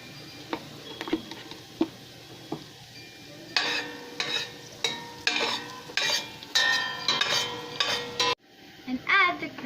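Garlic sizzles in a pan while a utensil stirs and scrapes it in repeated strokes, close and clear, with a few sharp clinks at the start and the stirring growing busier before a brief pause.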